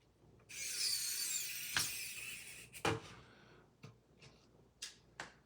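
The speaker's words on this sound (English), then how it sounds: "we're going to screw it down with the self-tapping screws here" Self-tapping screws are driven into a Fanhome build-your-own R2-D2 model, with a steady whirring drive for about a second followed by several short clicks and taps from handling the parts, close and fairly quiet.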